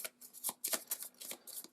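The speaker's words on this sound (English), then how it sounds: "They've got a deck of 6 AI cards. We're going to give that a shuffle." A small deck of six AI cards for the board game Earth being shuffled, giving a quick run of crisp papery riffles and snaps, close and fairly loud, with no talking.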